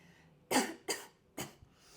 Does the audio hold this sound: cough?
yes